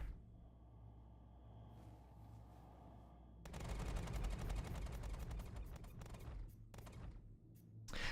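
Ship guns firing in the space game Star Citizen: after a quiet mechanical hum, a fast run of sharp, evenly spaced shots starts and goes on for several seconds, fairly close and loud, with no talk.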